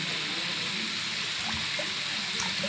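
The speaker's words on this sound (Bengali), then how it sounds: "পোস্তটা ধুয়ে একটু জল দিয়ে দেবো" Water poured into a pan of fish curry with poppy seed paste, a steady close rushing pour lasting the whole clip.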